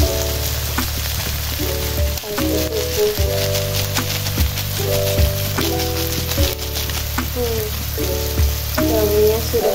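Vegetables frying in a hot pan for sayur lombok mercon, a steady loud sizzle with stirring scrapes and clatter over a humming background, no talk.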